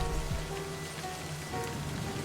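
Rain falls steadily in the video game Livber, a dense, even wash of patter on surfaces at constant loudness throughout, with no voices.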